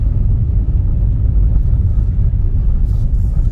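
Car driving along a road in Nazaré, Portugal, heard from inside as a loud, steady low engine and tyre rumble throughout, with no talk.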